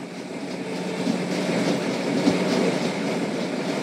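A train in the Roblox game Jailbreak rolls past with a steady rumbling drone and faint rhythmic clatter of wheels on track, loud and continuous with no talk.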